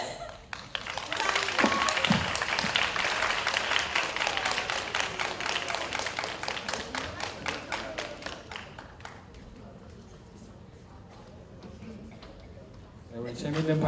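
An audience at a business model research presentation contest applauds for a presenting team, with dense clapping that builds, holds for several seconds and then thins out while a voice speaks over it.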